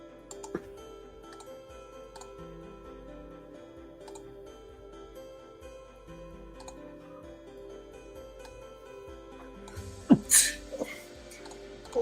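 A short, sharp sneeze bursts out near the end, after a stretch of quiet background ticking and faint clicks.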